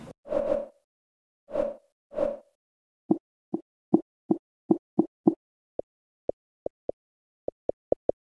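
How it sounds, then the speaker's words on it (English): Xbox menu sound effects play when switching between sections: a few soft whooshing swipes, then a series of short, clean plopping clicks at an uneven pace, quiet and isolated with no speech. "we are going to compare the sound effect when we are changing different section"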